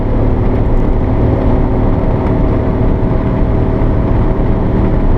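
A 1991 Honda Acty Street kei mini van cruises downhill in fifth gear, its small engine droning steadily and loudly from inside the cab, with no talk over the hum.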